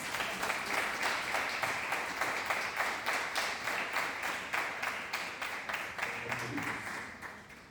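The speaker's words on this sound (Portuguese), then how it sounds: "Palmas que exalta Jesus" Congregation clapping in a church service, a loud rhythmic unison of hands beating in steady time for several seconds before tapering at the end.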